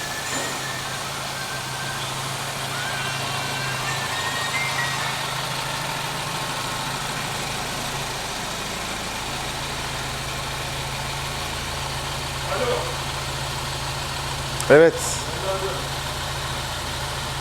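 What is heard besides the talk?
rebuilt car engine idling after starting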